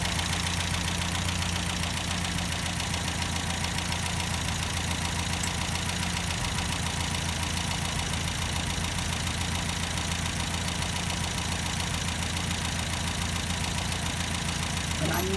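An MGA MK2 engine idles steadily and close by while its carburettor mixture is being leaned, a continuous even rumble with a slight rhythmic beat that runs without a break.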